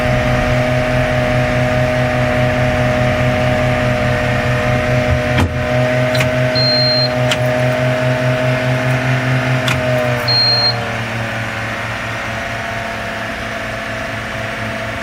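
A school bus's rear-mounted diesel engine idles with a steady low rumble, heard from inside the bus. A few sharp clicks and brief tones sound partway through, and the engine note drops lower and settles near the end.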